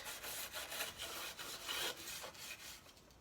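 Baked-on food is scrubbed off the inside surface of an oven. Soft, rhythmic rubbing strokes repeat steadily and sound faint and close, with no one talking.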